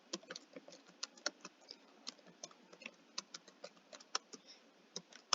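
Fingers typing on a computer keyboard, a quick uneven stream of light clicking keystrokes, close by and soft, with no voices.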